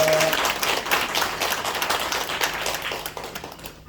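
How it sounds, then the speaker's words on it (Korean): A church congregation claps together after an infant baptism, the applause a dense patter of many hands at moderate distance, steady for several seconds before fading at the end. "박수하겠습니다."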